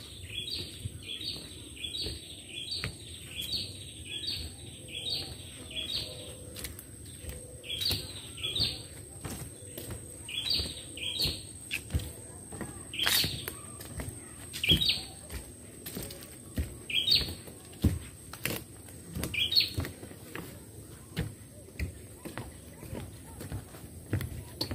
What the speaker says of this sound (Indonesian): Dan terdengar suara burung.